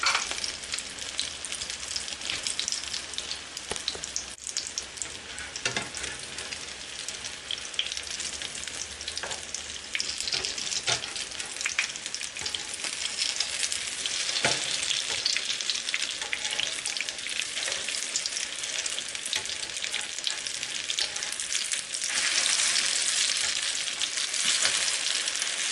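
Shami kebabs of chicken and lentil sizzle steadily in a frying pan as they crisp, a continuous loud crackling hiss with scattered sharp pops throughout.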